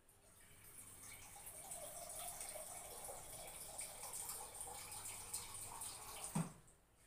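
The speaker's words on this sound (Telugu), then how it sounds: "ఈ చెంబుతోటి నీళ్లు పోసుకోవాలి." Water poured from a small metal pot into rice while making chickpea pulao, a faint, steady splashing stream lasting several seconds that ends in a soft knock.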